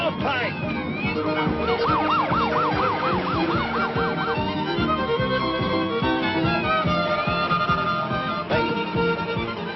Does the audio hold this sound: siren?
yes